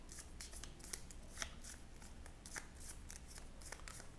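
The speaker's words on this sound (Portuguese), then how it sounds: "Embaralha então o deck e compra 2 cartas." Cards from a ShadowRun Crossfire game deck are riffled and shuffled in a steady run of quick crisp flicks, quiet and close, with no talking.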